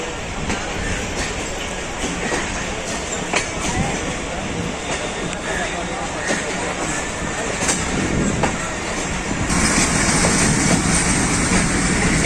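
The Pakistan Express passenger train runs on the rails, with a dense, steady roar of wheels and rattling cars and a faint clickety-clack, heard close from aboard and growing slightly louder toward the end.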